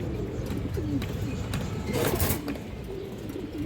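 Pigeons coo in low, repeated throaty calls close by, with soft rustling and brief flutters among the birds.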